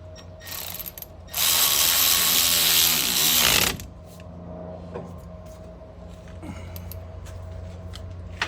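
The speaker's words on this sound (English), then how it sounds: "I'm gonna put this nut on, pull the shaft up through it." Nut being tightened on the front suspension shaft of a 2013 Ford F150 4x4, heard as a loud burst of rapid ratcheting or power-tool whirring for about two seconds, followed by faint mechanical clicks and handling noises.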